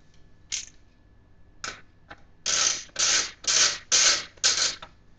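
A screwdriver drives screws into the front panel of a home office computer case, giving a few short clicks and then five evenly spaced bursts of ratcheting, grinding turns, close and clear with no talking.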